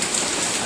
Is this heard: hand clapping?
no